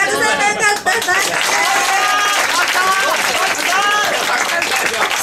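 Audience applause and cheering at a live exhibition music battle, a dense steady wash of clapping with shouts and voices over it, loud and continuous throughout.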